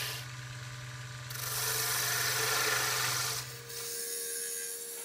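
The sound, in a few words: wood lathe turning willow wood, refining stem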